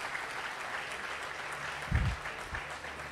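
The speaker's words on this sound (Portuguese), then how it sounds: "Aplaude o teu Deus," Congregation applauding in a church, a steady wash of many hands clapping at moderate distance with a couple of low thumps partway through.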